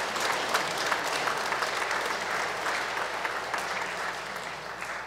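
Church congregation at a Christmas Eve service applauding, a dense, steady wash of clapping from many hands that holds evenly throughout, with faint voices underneath.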